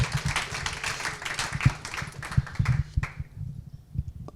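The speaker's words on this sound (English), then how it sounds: "Please, a bit of cheer for her." Audience applause at a product development talk, a dense wash of clapping from a crowd that carries steadily and then thins out near the end, with no voices over it.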